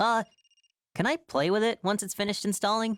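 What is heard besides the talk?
telephone ringing in the video game Another Code: Recollection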